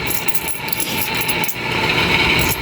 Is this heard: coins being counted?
yes